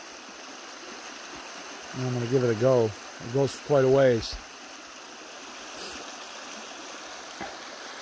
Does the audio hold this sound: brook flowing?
yes